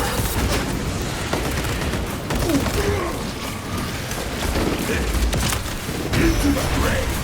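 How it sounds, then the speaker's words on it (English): Frag grenade blasts and heavy gunfire in the video game Space Marine 2, a dense, continuous barrage of shots and booms running throughout the clip under in-game voice callouts. "Throwing frag grenade!"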